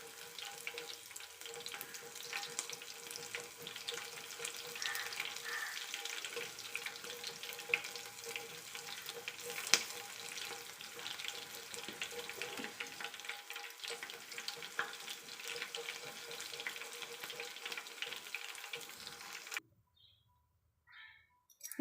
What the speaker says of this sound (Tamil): நம்ம பூண்டு ஒரு 5-6 பல்லு பூண்டு வந்து தோலோடு நசுக்கி வச்சுருக்கோம். அதை வந்து பொரித்து எடுத்துக்கலாம் எண்ணெயில்